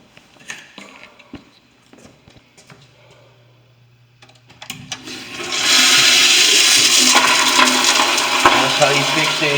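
A Sloan automatic flush toilet releases a loud rushing flush partway through, preceded by faint clicks and tool taps, the roar of water continuing steadily to the end.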